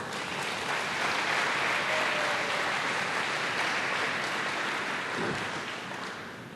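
A church congregation applauds the Lord during a worship service: steady, dense clapping fills the space throughout and thins out slightly toward the end, with no voices over it.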